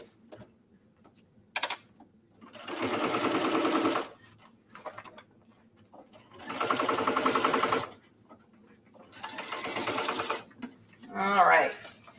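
A sewing machine stitches a laptop sleeve in three sustained whirring runs separated by pauses, each run close and steady, with small clicks and handling noises between them.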